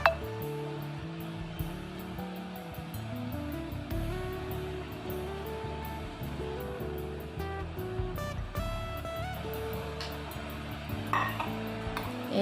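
Milk cream being stirred in a wok to render homemade ghee, with a utensil scraping and clinking against the pan in a steady, busy rhythm alongside faint sizzling, close and continuous.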